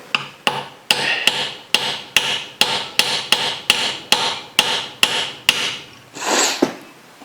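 A hammer striking a cold chisel into spoon metal resting on a wooden block, about a dozen loud evenly spaced metallic blows in a steady rhythm, close up, followed by a brief scraping rub.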